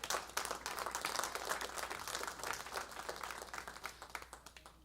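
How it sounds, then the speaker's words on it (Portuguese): A church congregation at a Portuguese-language service applauds together, a steady wash of many hands clapping, fairly quiet and distant, gradually thinning toward the end. "Aplauda Ele."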